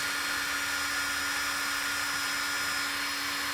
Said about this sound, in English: when battery is engaged in the tool, or put into the tool, you press the trigger